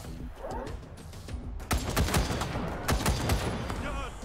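Rapid bursts of gunfire crackle through a combat exchange in the video game Wasteland 3, a quieter lead-in giving way to dense overlapping shots and sharp impacts.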